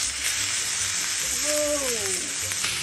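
A steak hitting a very hot pan gives a steady, loud broadband sizzle that holds throughout, with a faint whistling tone drifting briefly in the middle.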